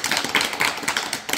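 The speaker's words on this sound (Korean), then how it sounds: "큰 박수 부탁드립니다" An audience breaks into applause at a talk, a short burst of many hands clapping close and loud, dense and fairly even for about a second and a half.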